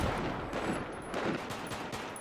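Gunfire in the shooter game Battlefield 4 crackles as dense, continuous bursts of shots, loud and sustained throughout with no voices over it.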